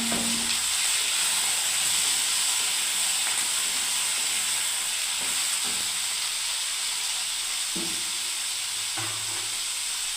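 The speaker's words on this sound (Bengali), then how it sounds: "এবারে ভালো করে আমি নাড়তে থাকবো।" Raw banana, tomato and onion fry in a pan under a loud, steady sizzle and hiss, with occasional spoon knocks and scrapes as they are stirred.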